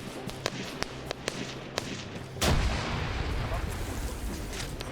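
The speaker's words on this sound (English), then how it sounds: "Grenade!" A grenade goes off in the military shooter Arma 3 as one sudden loud broadband blast, its rumble lingering for several seconds after, preceded by a scatter of sharp, distant gunshot cracks.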